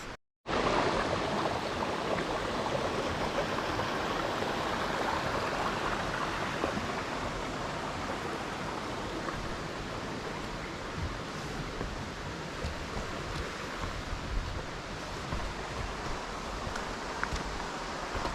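Steady, loud rush of Sweet Creek Falls in Oregon, heard from the lower viewpoint, a continuous broadband roar with no breaks, heard up close and alone.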